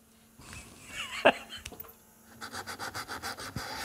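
Rhythmic rubbing strokes of sandpaper on a carved wooden carnival mask, a steady series of short scratchy passes after a few scattered scrapes, close and moderately quiet.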